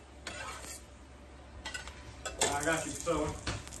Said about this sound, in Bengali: পরোটা ভাজতে আইলাম।